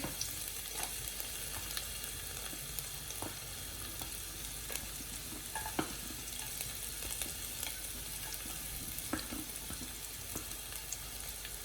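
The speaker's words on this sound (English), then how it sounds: "So to this I'm going to add finely diced ginger, onions and garlic." Finely diced ginger, onions and garlic fry in oil with a steady, dense sizzle, broken by occasional stirring scrapes and small pops; continuous and close, with no talking.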